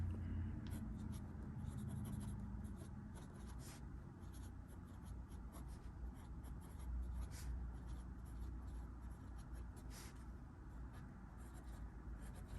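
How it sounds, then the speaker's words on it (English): Fountain pen with a double broad nib and shimmer ink writing on paper, a soft steady scratching that runs continuously and close for several seconds with no talk. "I didn't suck up too much of it though, so I may not have any much when I write."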